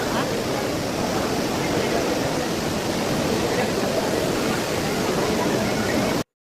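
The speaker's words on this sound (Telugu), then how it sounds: "చూడండి ఇదే వాటర్ ఫాల్ ఎంత బావుంది అసలకి అద్భుతంగా ఉంది" Waterfall at Kapileshwaraswami temple in Tirupati, a loud, steady roar of falling water that holds unbroken for several seconds before stopping abruptly.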